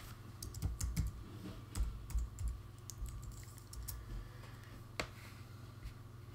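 Keystrokes tapping on a computer keyboard while setting up a WiFi and Bluetooth upgrade on a Mac Pro, a quick irregular run of clicks, close and fairly soft over a low steady hum.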